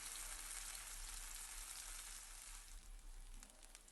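Raw banana pieces fry in heated oil over a low flame, a soft steady bubbling sizzle with faint crackles that eases slightly toward the end, close but quiet and without talk.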